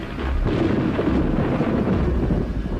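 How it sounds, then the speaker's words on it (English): Thunder from a dry storm over Australian grassland, a heavy continuous low rumble that rolls steadily for a few seconds, loud and close with no rain or voices. "A storm."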